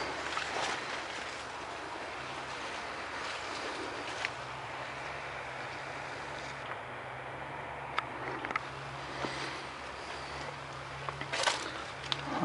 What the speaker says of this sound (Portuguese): essa escavadeira aqui é uma Fiatalis 215 da Maggi